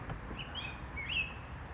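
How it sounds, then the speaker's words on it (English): Faint birdsong drifts through Singleton Park, a few short high chirps and whistles against a quiet background hum of distant traffic. "I think I can hear some birds, but I don't really know what it is."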